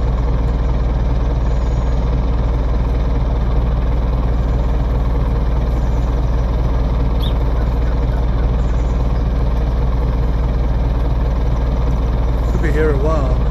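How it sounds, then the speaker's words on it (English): Simulated car engine in Farming Simulator 19 running steadily with a low, droning tractor-like rumble at constant pitch, loud and continuous throughout, with no talk over it. "if you listen to the sound of that car, that's not authentic at all, is it? That sounds like a tractor."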